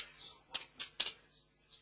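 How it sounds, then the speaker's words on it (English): A few sharp keystrokes on a computer keyboard while farm details are typed in, clicking in an irregular cluster of separate taps, close and fairly quiet with gaps between. "it's just going through and typing in the farm details"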